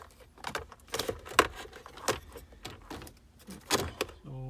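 Plastic interior trim on a Toyota Camry Hybrid dashboard being pried and pulled up, a run of close clicks, creaks and snaps of clips releasing, irregular and moderately loud.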